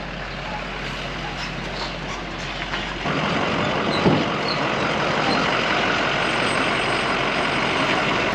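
A truck and trailer roll onto a weigh station scale, engine rumbling steadily close by with a rise in noise partway through and a continuous broadband drone, no voices.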